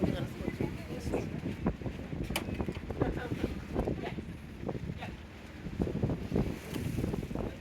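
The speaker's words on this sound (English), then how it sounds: "it is a little extra windy and a little extra wavy" Steady wind buffeting the microphone on a boat on Lake Superior at Duluth, Minnesota, with a constant rushing roar and faint wave sloshing beneath it.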